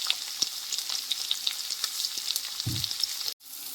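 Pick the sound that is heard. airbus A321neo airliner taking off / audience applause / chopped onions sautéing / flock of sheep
chopped onions sautéing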